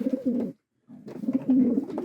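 A racing pigeon coos nearby in low burbling phrases, pausing briefly before resuming its rolling, throaty calls.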